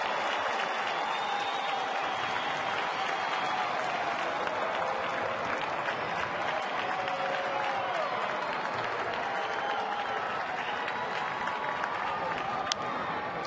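A baseball stadium crowd of more than 18,000 applauds and cheers steadily in the seventh inning of a Royals–Tigers game, a dense, continuous roar of clapping with scattered shouts and no talk.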